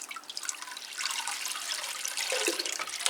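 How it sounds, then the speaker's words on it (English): Water poured into a potted Cattleya orchid in an open, fast-draining mix, a close, continuous splashing trickle with some dripping for a few seconds. "just water that one and have a look at another one"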